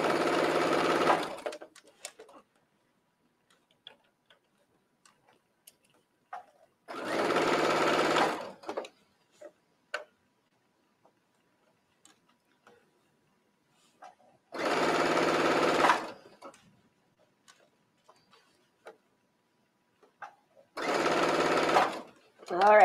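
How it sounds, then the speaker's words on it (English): A sewing machine stitches fabric for an infinity scarf in four separate bursts of steady whirring, each a couple of seconds long, with quiet pauses and small handling clicks between them. "Start stitching around, making sure I don't stitch over any of the pins."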